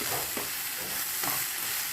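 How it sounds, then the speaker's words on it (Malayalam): Chopped onions for a samosa filling soften in a hot pan, giving a steady close sizzle with soft scraping stirs at a slow, regular pace, loud and alone. "നമുക്കിതിലിട്ട് കൊടുത്തിട്ട് നല്ലോണം വാട്ടിയെടുക്കുക"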